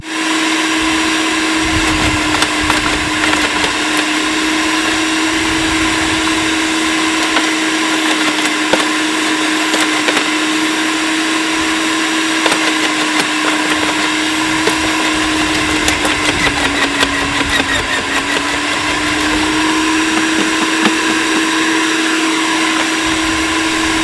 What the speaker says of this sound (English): Let's get some more sticks and see what happens.